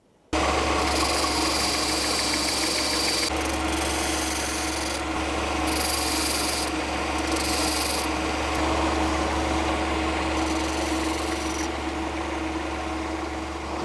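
An iron folding-knife blade being planed and shaped by hand, a continuous close rasping, filing scrape that runs unbroken and loud with no speech.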